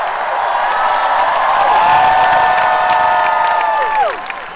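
A packed Hall H crowd at a Marvel Studios panel at San Diego Comic-Con cheers, whoops and applauds loudly and without a break, with long sustained shouts before the roar drops away at the end.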